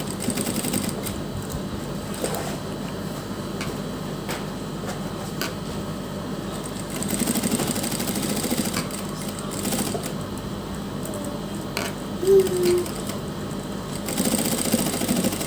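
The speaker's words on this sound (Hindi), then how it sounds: "देखिए इस सिलाई को कंप्लीट करते हुए" A sewing machine stitches around a dress neckline trimmed with lace, its steady motor whir running nearly continuously at moderate level, with brief pauses and one slightly louder burst near the end; no talking.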